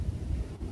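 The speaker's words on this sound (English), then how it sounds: "it's really, really windy" Gusty wind on a very windy day buffets the microphone, a dull, steady low rumble lasting under a second with no voice over it.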